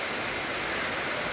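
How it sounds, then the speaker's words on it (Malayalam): Heavy monsoon rain pouring down in a dense, unbroken hiss, loud and close, like a steady roar of water with no pauses and no voices. "ഇത്തരത്തിലൊരു മഴ ആദ്യമായിട്ടാണ്."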